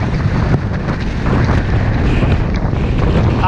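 Strong stormy autumn wind buffets the microphone in loud, continuous rumbling gusts during a bicycle ride on the Norfolk coast, with no other sounds clear beneath the roar.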